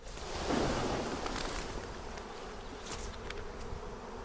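A massive honeybee swarm weighing down a tree fills the air with a dense, continuous buzzing hum, close and steady throughout.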